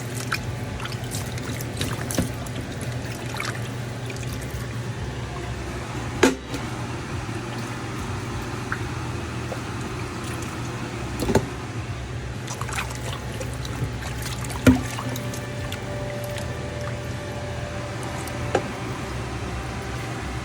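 Running water rinses beef chuck ribs, a steady trickling wash with soft background hum and a few sharp knocks and clatters at irregular moments, with no talking.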